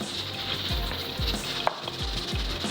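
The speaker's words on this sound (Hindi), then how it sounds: "साबित सफ़ेद ज़ीरा, और इसको थोड़ा सा कड़कड़ाने देते हैं।" Steady crackling sizzle of whole cumin seeds frying in hot oil, continuous and close, with soft periodic low thumps beneath.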